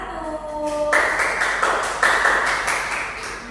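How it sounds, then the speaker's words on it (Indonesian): A classroom applauds a student group after their presentation: a burst of clapping starts abruptly after a short tonal ring fades, then continues as a steady patter of many hands with a second surge partway through. "berikan tepuk tangan kepada kelompok 1"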